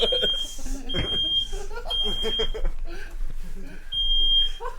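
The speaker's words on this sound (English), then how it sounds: "Smoke alarm's going off." A smoke alarm sounds repeated shrill high beeps while several people talk and move around nearby.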